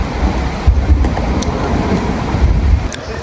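Strong wind gusts by a riverside, a rough low rumble of buffeting air across the microphone with a steady broadband rush, loud and close.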